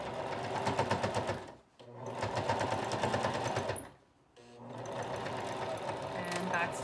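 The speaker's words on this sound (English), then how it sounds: "I'm gonna take this to my sewing machine, and I'm going to sew this." A sewing machine stitches a fabric face mask in steady rapid bursts, close and fairly loud, stopping twice briefly before resuming, with someone talking over it.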